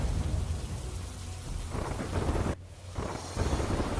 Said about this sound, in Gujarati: ઝરમર ઝરમર આ વરસાદ જે માણવા લાયક પણ છે અને ખેતીને પણ ફાયદો કરાવે તેવો વરસાદ છે